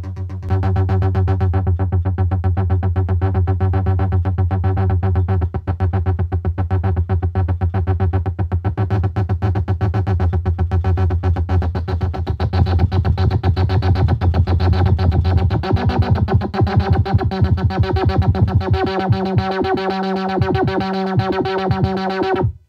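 Analog synthesizer voice built on a breadboard, sequenced by a BeatStep Pro, plays a repeating distorted, buzzy pattern with changing gate lengths; a steady pulsing bass line runs alone and shifts to brighter, choppier notes near the end.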